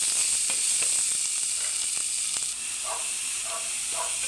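Onions dropped into a pan of fried garlic for pork sisig hiss with a steady, loud sizzle, a few soft crackles popping up near the end.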